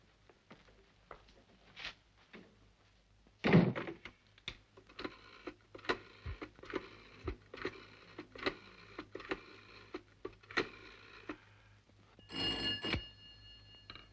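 A telephone bell rings in a 1957 British film noir, its short bursts rising over a quiet interior amid faint clicks and ticks, with no voices.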